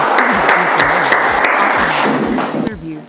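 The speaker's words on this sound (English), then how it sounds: "So please give a round of applause for her." Crowd applause greets a guest at a tourism presentation, a dense, steady patter of clapping that runs for about three seconds and fades at the end, with a voice speaking over it.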